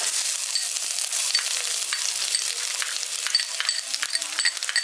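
Grated coconut lightly frying in oil in a village-style kitchen, a steady bright sizzle with scattered crackles and small clinks of stirring, continuous and close.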